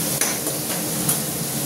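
Potatoes frying in a pan give a steady sizzle, with a couple of sharp scrapes of a utensil stirring them, close and alone.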